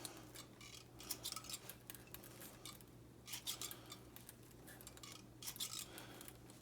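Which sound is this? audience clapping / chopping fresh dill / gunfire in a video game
chopping fresh dill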